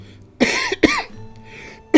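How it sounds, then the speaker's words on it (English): A few harsh, close coughs come in quick bursts, separated by short pauses. "Sorry, other coughing fit."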